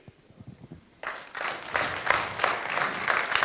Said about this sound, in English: Please give Akili a big round of applause